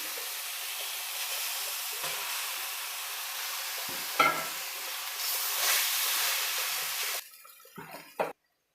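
Cooked rice stirred into a sizzling pan of pudina (mint) rice, a continuous hiss and sizzle with scraping stirs and a sharp clatter before it drops off near the end, no talk.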